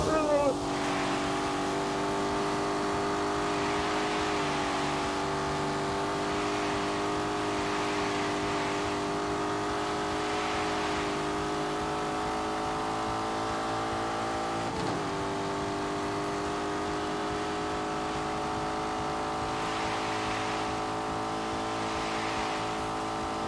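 A turbocharged Lamborghini with an automatic gearbox accelerating hard, a steady loud engine drone rising in pitch across each gear, with brief dips at shifts and a voice speaking over it.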